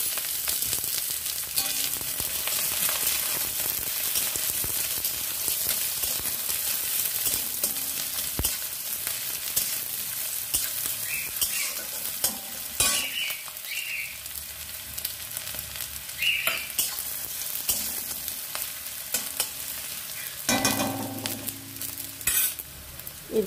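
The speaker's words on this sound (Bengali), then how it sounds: "তেলটা ভালো মতো গরম হয়ে যাবার পর পেঁয়াজ আর কাঁচা লঙ্কা কুচিটা দিয়ে একটু" Chopped onion and green chili frying in hot mustard oil in a kadai, a continuous sizzle broken by frequent stirring clanks and scrapes of the spatula against the pan.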